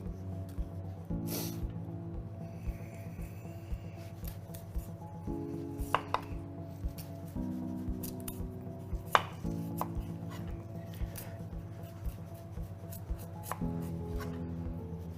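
A knife peels and chops a vegetable on a chopping board, with steady rhythmic cutting strokes in repeated runs, close and clear, with occasional sharper knocks.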